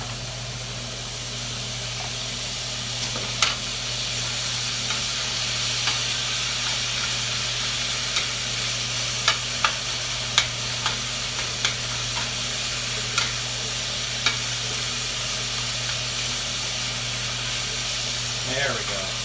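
Butter sizzles steadily in a hot pan with meat, a constant broadband hiss carrying scattered clicks and scrapes from stirring, close and fairly loud throughout.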